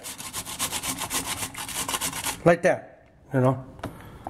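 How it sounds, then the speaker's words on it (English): Cauliflower rubbed against a cheese grater makes steady, rhythmic rasping scrapes for about two and a half seconds. Brief bits of talk and a couple of short knocks follow. "or you can use the cheese grater, do it like that"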